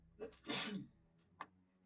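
A single sharp sneeze burst, close and fairly loud, followed by a brief smaller sound and quiet room tone.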